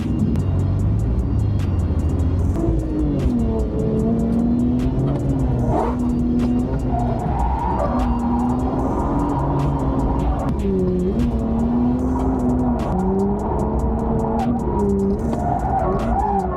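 A drift car on its first lap, steered fully to lock, revs hard with a rising and falling engine note while its tires squeal and skid continuously for several seconds, close and loud.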